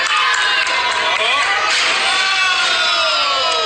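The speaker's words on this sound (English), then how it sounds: "You hear all the people in the crowd, the oohs and the ahs." Wrestling arena crowd reacting to a reverse suplex and sit-out tombstone, a dense wash of oohs, ahs and rising cheers with shouting voices swelling and falling throughout, loud and continuous.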